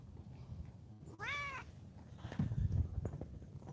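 A house cat gives one clear, drawn-out meow partway through, set against quiet room noise and some rustling afterward.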